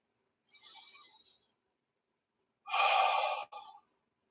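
Two deep breaths during a fitness test, a long airy inhale followed by a heavier, louder exhale that ends in a short breathy tail, close to the mic in a quiet room.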